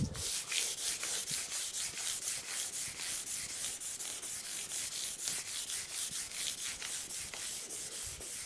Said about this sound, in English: So I've just got a 600 sanding pad